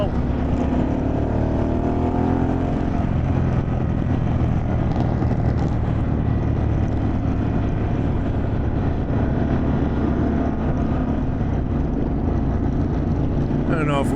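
A Harley-Davidson Pan America motorcycle fitted with a Vance & Hines exhaust, riding on a road, its engine droning loud and steady throughout with wind noise, while a rider talks over it.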